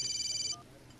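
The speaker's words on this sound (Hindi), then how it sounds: "जरा फोन आ गया" An electronic phone ringtone trills rapidly and steadily for about half a second, then cuts off, leaving a faint low background.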